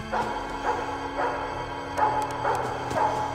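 A dog barking in the horror video game Five Nights at Freddy's, a series of about six or seven distinct barks and yips over a low electronic hum, moderately loud and evenly spaced.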